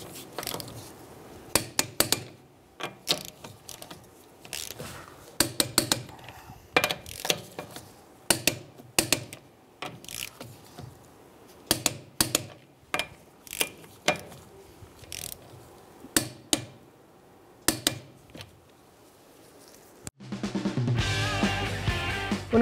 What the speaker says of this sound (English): we're going to tighten down our lug nuts to 79 foot-pounds. We're going to do it in a star pattern.